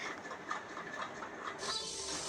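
Pressure cooker whistle releasing steam while cooking coconut milk green pea pulao, a loud broadband hiss surging near the end over a steady bubbling background, close by with no talking.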